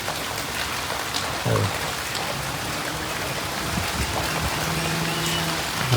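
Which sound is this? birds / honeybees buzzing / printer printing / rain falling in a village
rain falling in a village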